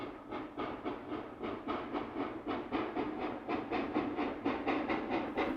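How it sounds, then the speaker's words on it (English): Western Maryland 734 steam locomotive running by at the Brush Tunnel portal, a continuous rumbling roar with evenly spaced rhythmic chuffs pulsing about three times a second, steady and fairly close. "The train has backed up so we can watch another run-by at the opposite portal."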